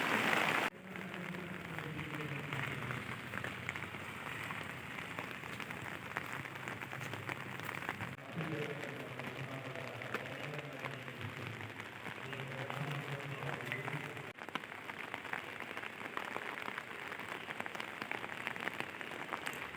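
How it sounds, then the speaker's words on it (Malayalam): Steady rain patters on an umbrella held by someone walking on church grounds, a dense continuous close spatter with no talk. "നല്ല മഴയുണ്ട് കേട്ടോ. ഞാൻ കുടയും ചൂടിയിട്ടാണ് നടക്കുന്നത്."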